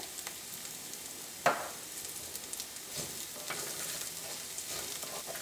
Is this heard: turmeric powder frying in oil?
yes